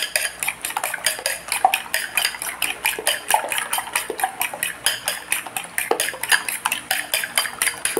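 Fast, steady clinking of a whisk or utensil beating evaporated milk into egg in a bowl for a simple sugar-free banana dessert, a close rapid metallic rhythm running throughout with no talk.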